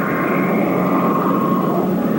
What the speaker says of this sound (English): Is that aircraft over you, Walter?